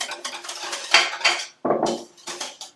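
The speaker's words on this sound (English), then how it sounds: "Let's give it a good whisk." A whisk clatters quickly against a bowl, beating egg into Lebanese yoghurt sauce for laban matboukh, in loud, close bursts with a brief pause midway.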